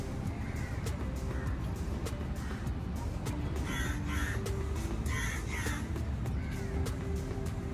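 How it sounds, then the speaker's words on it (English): Crows cawing at a mangrove boardwalk in Panjim, Goa, several harsh calls at a moderate distance over a steady outdoor background rumble, with no one speaking. "relax and listen to the chirping sounds of different birds"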